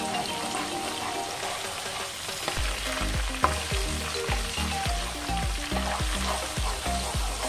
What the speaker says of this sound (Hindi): अब हम इसके अंदर अदरक लहसुन का पेस्ट ऐड करेंगे 1 tablespoon और इसको फ्राई करेंगे।